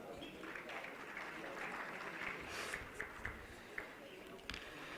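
Quiet, fairly distant applause from a conference audience at an energy event as a refinery CEO is called to the stage, soft continuous clapping with a few sharper claps and shuffling.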